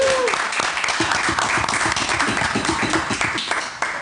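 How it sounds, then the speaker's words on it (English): A small seated audience at a talk in Prague bursts into warm applause, dense overlapping hand claps carrying on steadily for several seconds, fairly close. "We can give a big applause to Belen."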